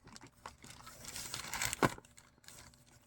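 Tough, stiff plastic packaging of an online-ordered microphone is crinkled and torn open close by, with irregular rustling, a sharp crackle near the middle and quieter handling noises afterward.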